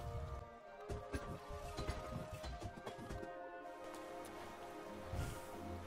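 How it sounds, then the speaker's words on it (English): Steady rain downpour in the game Hollow Knight, a dense patter filling the scene, with game music tones and brief clicks layered over it. "what are you doing in this, out in this miserable downpour?"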